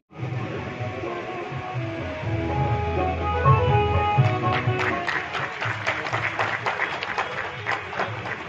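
Dense clapping from a crowd at a soldiers' honour ceremony in Ratannagar builds over a sustained tonal hum, growing into brisk, crackling applause in the second half.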